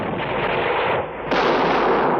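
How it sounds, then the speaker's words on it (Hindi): Cannon fire sound effect: a dense, roaring barrage of booming blasts, briefly dipping before a second, louder wave of heavy artillery rumble. "गुलाम गौस खां की गोलंदाजी के सामने कंपनी की सेना नहीं ठहर सकी और उसकी तोपें चुप हो गईं"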